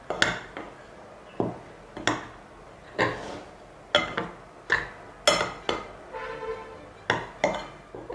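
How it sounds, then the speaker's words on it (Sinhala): Finger millet (kurakkan) dosa batter being mixed with yeast in a bowl, with a utensil knocking against the bowl in a string of sharp clinks and scrapes at an uneven, roughly steady pace, close up and alone. "ඊට පස්සේ ඊස් ටිකත් මේකටම එකතු කරනවා. මේක හොඳට කලවම් කරගන්න ඕනේ."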